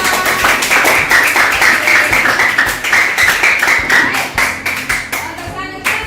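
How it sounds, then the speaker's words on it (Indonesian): Group hand clapping at a program gathering, loud and close with a fast, fairly regular rhythm that loosens and thins toward the end; faint voices underneath. "Tepuk tangan dulu untuk kita semua"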